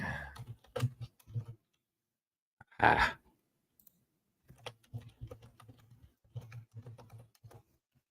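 Typing on a computer keyboard while a book is prepared for publishing, heard as scattered close clicks in short bursts, with a loud exhale-like burst midway and a brief voice sound.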